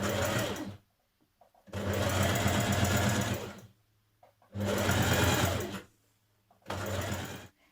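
A sewing machine stitches a narrow double-fold hem on a tie-front dress in four rapid, buzzing bursts separated by short silent pauses, close and clear with no talking.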